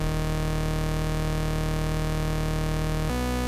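A dense, steady low synth bass drone made in Serum and pitched down two octaves buzzes continuously at high level, then shifts abruptly to a different tone near the end.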